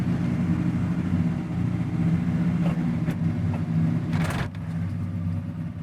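A farm truck engine idles steadily and loudly throughout, a low continuous rumble with a few brief clicks and rattles.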